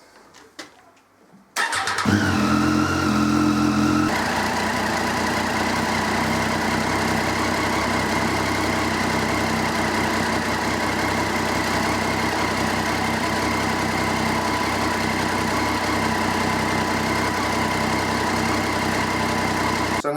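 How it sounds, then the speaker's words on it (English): A 2013 Triumph Street Triple R motorcycle engine cranks briefly and catches, then settles into a steady, loud, close idle that holds evenly for the rest of the stretch, with no voices. "I'm going to start the bike"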